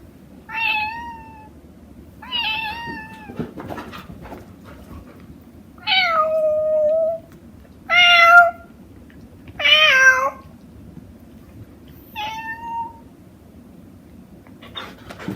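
A cat meows several times in short, separate calls, some drawn out and wavering, close by over a low background rumble.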